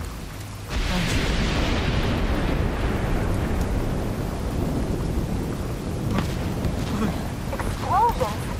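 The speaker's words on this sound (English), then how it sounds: "Explosion? What the hell?" A massive explosion in the video game The Division 2 erupts with a sudden loud blast, then rolls into a long rumbling roar with crackling debris that persists to the end.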